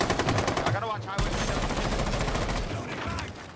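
Rapid automatic gunfire rattles in a console shooter video game, dense bursts of shots close and loud, with a short pause before another sustained volley, over faint game sounds.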